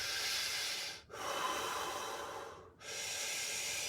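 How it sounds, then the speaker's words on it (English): Deep belly breathing is demonstrated: two long, forceful breaths through the nose, close and airy, with brief pauses between them and no talking. "If you want to know how to breathe, it's all about breathing from here."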